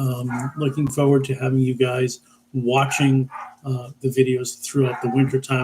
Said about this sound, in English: Right now, I'm sure you can hear my dogs in the background